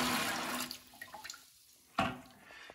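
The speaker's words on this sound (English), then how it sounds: "go ahead and dump out the water that's inside your sump" Water splashes and drains out of a Kinetico water pre-filter sump, a rushing pour that tapers into trickles and drips, followed by a second brief splash, heard up close.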